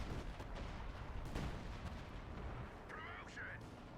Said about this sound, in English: Sun Fox got his own artillery. I'm assuming he's currently pounding this sector.